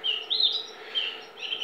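Canaries in a breeding aviary, including black opal yellow mosaic birds, give quick, bright chirps and trills in short repeated bursts, close and clear with no talking.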